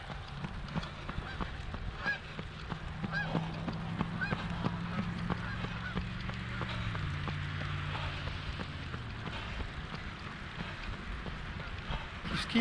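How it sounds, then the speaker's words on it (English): Migrating geese honk during an outdoor 5K race day, giving a series of nasal calls at moderate distance over a steady rain-like hiss. "Migrating geese have come to cheer Michael on."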